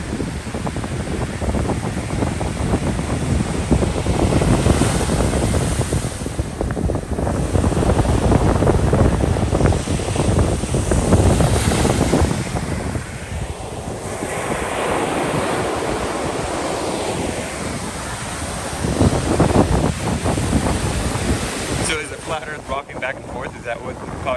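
Ocean waves surge and break on a beach in a continuous loud roar, swelling and easing, with gusts of wind buffeting the microphone throughout.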